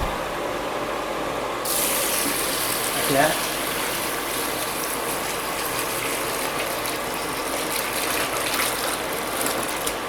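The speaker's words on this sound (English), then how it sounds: "take it out into another pot, and be careful when it's hot. You need, so I'm going to try to pour it down there" Hot Jordanian mansaf soup pours from one pot into another in a steady, broad, splashing gush that runs the whole stretch, with a short spoken remark over it.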